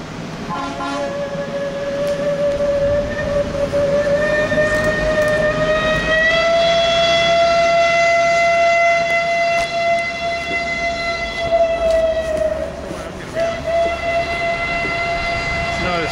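A regular diesel locomotive on the Mt Washington Cog Railway sounds a long, steady horn that swells and holds for several seconds over rumbling engine and track noise outdoors, then fades.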